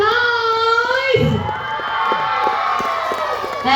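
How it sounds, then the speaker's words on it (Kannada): Crowd of spectators cheering and whooping at the South India Talent Fest 2025 stage show, a loud sustained roar with children's shouts rising over it and a brief burst near the start. "ಕಮಾನ್ ಆಡಿಯನ್ಸ್, ಜೋರ್ ಚಪ್ಪಾಳೆ ಮಾಡಬೇಕು"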